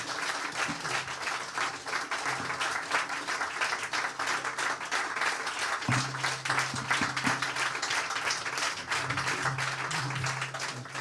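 Sustained applause from an audience at the Swiss Freethinker Award 2019 ceremony, dense and steady clapping throughout with no pause.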